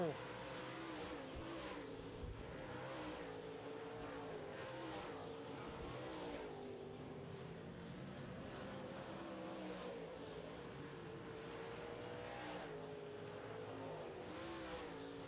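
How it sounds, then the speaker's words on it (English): Modified race cars circle an oval track, engines droning and swelling in repeated passes while a commentator talks over them throughout. "Rick Delane takes a stab at Sexton once again, this time coming out of turn 4"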